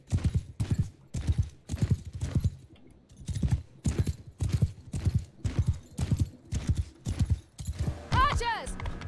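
Massed horse troops galloping in Mount and Blade Bannerlord, a rapid rhythmic clip-clop of many hooves pulsing steadily throughout, with a voice shouting orders over it and a brief whinny near the end.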